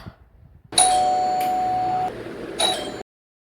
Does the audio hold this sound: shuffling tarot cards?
no